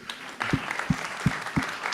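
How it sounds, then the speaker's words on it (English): Audience at a local AI innovators meetup in Brighton applauds, a steady patter of many hands with a few closer, louder claps recurring at regular intervals. "I think we really should give a round of applause"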